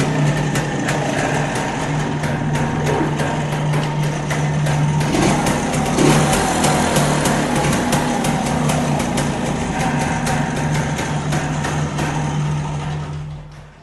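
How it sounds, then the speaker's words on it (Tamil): Stock 1995 Rajdoot 175 motorcycle engine idling in running condition, a steady, close two-stroke putter that holds an even, loud drone throughout before cutting off at the end. "இன்ஜின் பேஸ் கேட்டுக்கோங்க."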